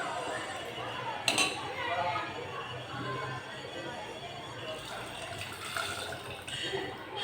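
Water is poured into a pot of bottle gourd curry in Andhra style, making a sloshing, splashing rush with faint clinks of metal, while someone speaks over it.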